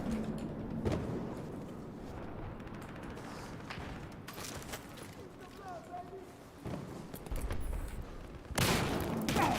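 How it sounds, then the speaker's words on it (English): Bursts of rifle fire and distant shots in a Battlefield 4 match, crackling in short volleys under a steady background, with someone talking over the action. "Somebody else is shooting at me."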